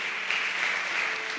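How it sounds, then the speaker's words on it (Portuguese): A church congregation applauds, and a dense, even wash of clapping holds steady throughout. "dê um aplauso ao Senhor Jesus."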